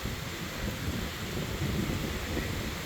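Strong wind blowing across a beach pier, a steady broadband rush and microphone buffeting throughout, loud and unbroken with no voices.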